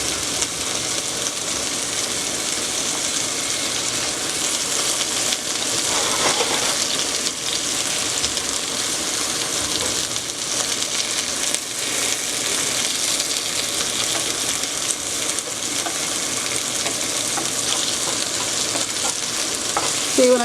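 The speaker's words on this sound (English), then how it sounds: "Mushrooms, when you saute them," Mushrooms sauté in oil in a pan while cooking chicken Marsala, giving a steady, close sizzle that crackles continuously for the whole stretch with occasional stirring shifts.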